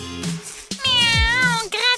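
A cat meows loudly and repeatedly at close range, long drawn-out calls with a voice speaking briefly in between.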